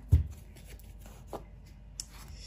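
Tarot cards being shuffled by hand, a soft papery riffle near the start with a few light slaps and flicks of cards afterward, quiet and close with no talking.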